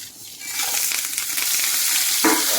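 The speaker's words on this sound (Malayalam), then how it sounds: "അതിലേക്ക് ഈ എടുത്തു വെച്ചിട്ടുള്ള എല്ലാ സാധനങ്ങളും ഒപ്പം ചേർത്ത് വറുത്തെടുക്കാം." Coriander seeds, dried chilli, onion, cumin, tamarind, curry leaves and salt frying together in coconut oil, a continuous close sizzle that grows slightly louder, with a sharper crackle near the end.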